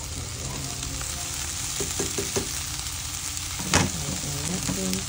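Ham and bitter gourd stir-fry in a pan with a steady soft sizzle, broken by a few scraping stirs and a sharper clatter of a utensil against the pan.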